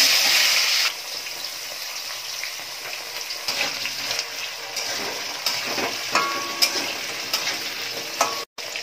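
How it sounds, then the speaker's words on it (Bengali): Potatoes fry in hot mustard oil in a wok. A loud, close sizzle opens the sound and then settles into a steady crackle, broken by occasional stirring scrapes. No one speaks. "এবার এখানে আমি আলুটা প্রথমেই ভেজে নেব।"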